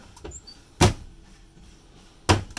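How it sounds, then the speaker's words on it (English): Cabinet doors in a 30-foot Cruise America rental RV close with two sharp, separate knocks about a second and a half apart, each a quick latching thud in an otherwise quiet interior. "All these cabinet doors latch."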